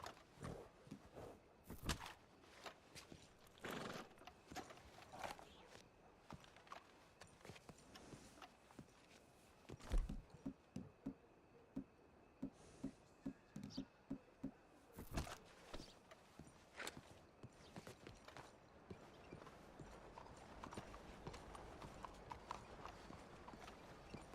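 Horse hooves clip-clop steadily in the Red Dead Redemption western game, a quiet run of distinct hoof strikes with a few louder thuds and gaps, heard alone without talk.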